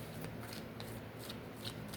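Tarot cards being shuffled by hand during a reading, a soft, close riffling and sliding with a few crisp flicks, very quiet and low in level.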